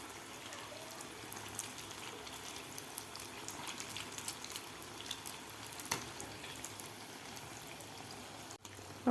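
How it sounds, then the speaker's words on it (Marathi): Rice pakodas deep fry in oil over a medium gas flame, giving a soft, steady bubbling hiss throughout with a few faint crackles and one small knock near the end. "आपल्याला हे मीडियम गॅसवर तळून घ्यायचे आहेत"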